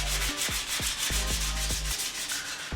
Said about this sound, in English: sanding and polishing.